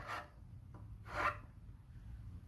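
A file rasps against a flame-shaped carving in two distinct close strokes, the second a little louder, with a faint scrape between them over a steady low hum.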